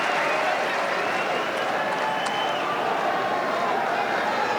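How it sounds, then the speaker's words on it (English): A large tennis crowd at Roland-Garros during the Alcaraz vs Sinner final cheers and applauds in a steady, dense roar of claps and shouts that fills the whole stretch at a constant level. "Every time he puts his fist in the air, they are cheering even louder."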